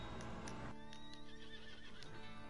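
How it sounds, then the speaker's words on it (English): A spooked horse lets out a loud, close whinny that rises and then wavers, with a few hoof clops under it. "my horse is acting off"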